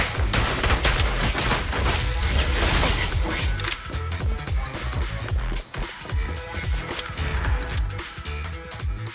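Rapid, dense gunfire from the video game Zenless Zone Zero crackles loudly and continuously, with bursts of overlapping shots and impacts filling the whole stretch.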